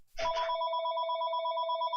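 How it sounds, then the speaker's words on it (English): A telephone rings close by with a steady electronic bell trill that starts after a brief thump and sustains loudly to the end. "It's a phone."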